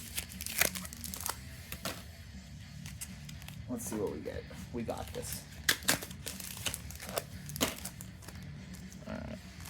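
A Yu-Gi-Oh card pack is torn and crinkled open close up, with bursts of foil crackling and ripping under a person's casual talk.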